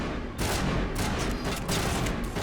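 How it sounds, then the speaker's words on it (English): Gunfire in the Mass Effect video game, with dense bursts of rapid shots and cracks layered together over a short stretch, moderately loud, with no talking. "I can't tell what they're shooting at."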